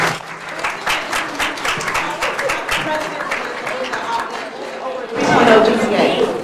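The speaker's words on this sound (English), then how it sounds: "Let's give her a round of applause." Panel audience at a women's event claps in a sustained round of applause that swells louder near the end, with voices talking underneath.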